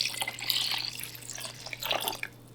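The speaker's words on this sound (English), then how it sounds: "And you could just leave it here, but we're gonna add water." Water being poured into a pot of vegan lentil dal, a steady broadband splash and trickle running for a couple of seconds with a brief surge near the end, no voices.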